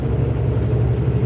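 A steady low engine rumble drones on as a constant background hum, even in level and without talk over it.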